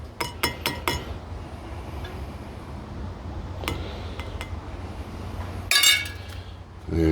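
A glass stirring rod clinks against a glass holding gold solution during gold refining: a quick run of sharp taps, a few isolated clinks, then a denser rattle near the end.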